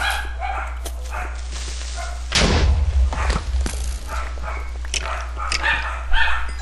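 A nearby dog barks in a short burst with some thumping, cutting through a low steady hum from a Minecraft game, then quieter scattered noises follow.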